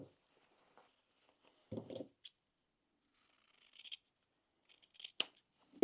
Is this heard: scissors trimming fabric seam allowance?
yes